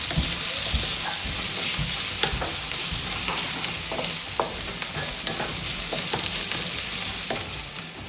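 Onion stirred and frying in a pan for pad thai: a steady, close sizzle runs throughout, broken by frequent sharp scrapes and clicks of the utensil against the pan.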